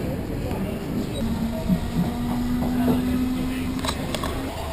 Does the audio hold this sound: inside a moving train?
yes